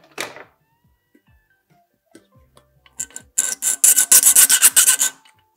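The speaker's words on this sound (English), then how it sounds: "I've got to file just a little bit out of here so it matches our lid." Hand file rasping at the opening of a homemade moneybox to match its lid, a few light taps first, then a quick run of loud, rhythmic scraping strokes close up.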